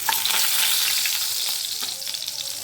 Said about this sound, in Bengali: এবার এখানে রসুন কুচিটা দিয়ে দেবো। 1 সেকেন্ড ভালো করে নেড়ে নেব।